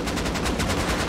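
Gunfire in the Rust video game, a fast continuous automatic burst of loud, rapid cracking shots filling the whole moment without pause, with no talk.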